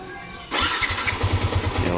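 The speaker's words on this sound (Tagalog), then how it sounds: "start ang motor natin" Honda Sniper 150 motorcycle engine cranking and catching after a quiet moment, then settling into a close, steady, loud idle with a quick low pulse.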